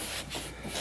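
A towel rubs back and forth over a 1971 Ford LTD tail light being cleaned of rust, giving a short, soft, close dry scrubbing sound with no talk.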